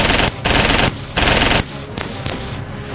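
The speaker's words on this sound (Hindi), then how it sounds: "पाकिस्तान फौज सरहद पर गोलियां बरसा रही है।" Loud bursts of rapid automatic gunfire from Pakistani troops at the India–Pakistan border during a ceasefire violation, three long volleys then shorter scattered shots, close and harsh.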